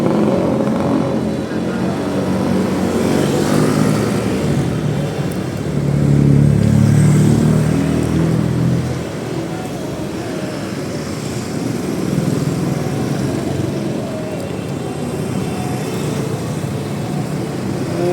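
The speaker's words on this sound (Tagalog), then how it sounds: "Daming bibilis ng mga tricycle." Motorized tricycles and other vehicles speed along a busy street, several engines rising and falling as they pass nearby over a constant traffic rumble, with no talking.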